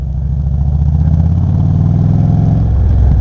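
A vehicle engine runs steadily with a low, continuous rumble at the start of a ride in cold weather, loud and close, with a slight rise toward the end and no talking.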